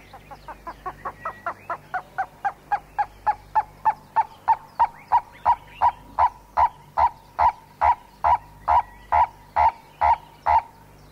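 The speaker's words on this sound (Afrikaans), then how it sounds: "Die bloukuifloerie, 'n skrilroep, maar 'n lieflike voël met sy rooi en blou, groen en purper vere." Purple-crested turaco in open woodland, a long series of loud, evenly spaced honking calls that start softer and build in strength, about two per second, with a low hum underneath.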